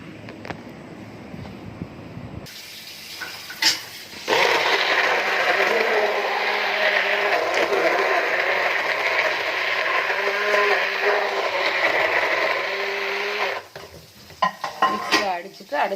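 Palm jaggery being ground in a kitchen mixer grinder, a loud steady whirring roar that starts abruptly and runs for about nine seconds before cutting off, followed by a few clattering knocks.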